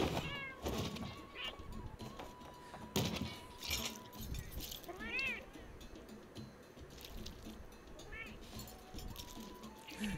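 A cat meows repeatedly in the video game Monster Hunter World Iceborne, short nearby cries scattered over a soft game background with occasional light clinks.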